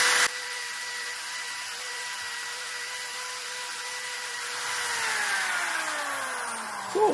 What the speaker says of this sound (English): now I'm just going to give it a quick buff with the wire brush clamped to my workbench